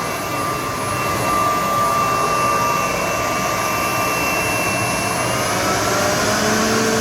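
A cordless battery garden vacuum blower runs at full power, a loud, steady, jet-like whoosh with a faint high whine holding constant and close throughout, with no talking.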